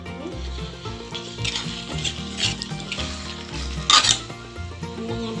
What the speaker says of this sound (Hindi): अब इसमें हम पानी ऐड करेंगे अच्छी तरह पकाने के लिए।